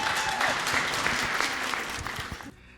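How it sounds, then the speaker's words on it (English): An audience gives a birthday round of applause for Bob, with brisk, close clapping from a small crowd that holds steady for a couple of seconds and then cuts off abruptly. "Let's give Bob a big round of applause."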